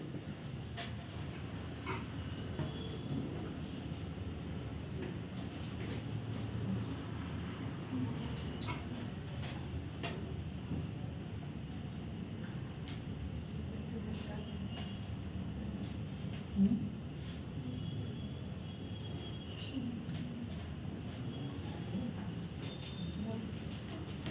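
A 280-metre train running steadily, with a continuous low rumble and rattle of wagons and faint squeals, heard from on board or nearby for a long stretch with distant voices now and then.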